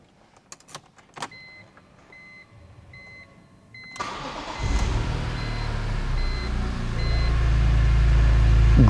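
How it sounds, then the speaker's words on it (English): A 2006 BMW M3 Competition Package is heard first with a few clicks and a soft repeating chime, then the engine cranks and fires up into a loud, rumbling idle that grows slightly fuller, heard nearby with no talking. "Great sound."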